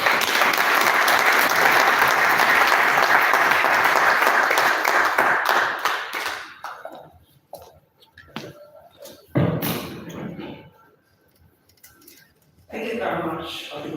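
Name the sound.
round of applause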